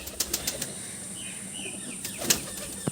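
A Giribaz pigeon at a loft flaps its wings in a few quick bursts of soft beats, near and brief, separated by quieter loft ambience.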